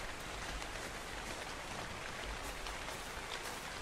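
Rain falls steadily on a tropical island in the survival game ARK, a soft continuous hiss with faint scattered drops, with no voices.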